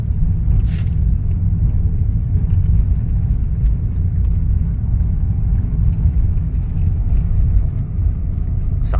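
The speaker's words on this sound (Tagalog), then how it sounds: "Sakay tayo ng kutsi ni Ate Glenda" Car driving around Angat, Bulacan, heard from inside as a steady low engine and road rumble holding at a constant loud level, with no talk.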